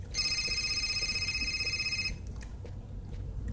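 In the video game Fahrenheit (Indigo Prophecy), a telephone rings with a continuous bright electronic trill for about two seconds over a low ambient hum, then stops abruptly, leaving the quiet background.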